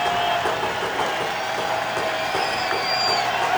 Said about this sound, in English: the crowd starting to get into it at Cajun Field